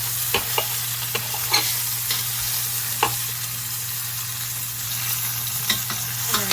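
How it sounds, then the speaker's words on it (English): Meat sears in a non-cast-iron frying pan, giving a constant loud sizzle with occasional scraping and stirring clicks from a utensil, close up and with no talking. "The recipe does say sear it just for 2 minutes on each side."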